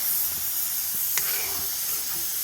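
Ginger and green chilies frying in hot oil in a pan give a steady, close sizzling hiss, with a light clink partway through.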